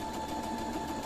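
Sewing machine stitching in the seam allowance to hold a fabric ruffle onto a sleeve, a steady close mechanical whir running continuously.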